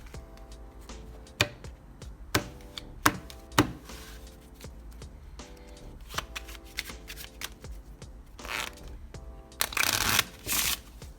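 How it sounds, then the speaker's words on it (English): Playing cards are shuffled with sharp riffling snaps and taps, close and quiet, ending in a longer burst of rapid riffling. "we're going to continue shuffling, except we're going to do a really messy shuffle"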